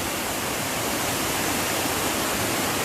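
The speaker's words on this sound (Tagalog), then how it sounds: "Ito na ang falls. Malapit na, lakas na ng agos ng tubig oh." Steady, powerful roar of a waterfall and rushing water at Hidden Falls, a dense broadband wash that stays constant and close throughout with no voices.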